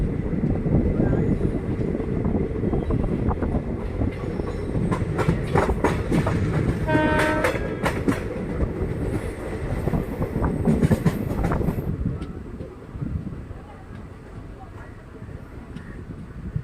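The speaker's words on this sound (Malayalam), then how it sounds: "നമ്മുടെ ട്രെയിൻ അങ്ങനെ വർക്കല ശിവഗിരി റെയിൽവേ സ്റ്റേഷനിൽ നിന്ന് വീണ്ടും പുറപ്പെട്ടിരിക്കുകയാണ്" A passenger train on the Punalur to Nagercoil line pulls out of Varkala Sivagiri railway station, a loud, steady rumble with clattering wheels and a brief horn blast midway, the noise easing off toward the end.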